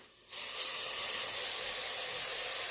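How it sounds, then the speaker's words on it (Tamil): Tomatoes hit a hot pan already holding masala and start sizzling, a loud steady hiss that jumps up suddenly and then holds evenly. "இப்போ தக்காளியை ஊற்றிக்கலாம்"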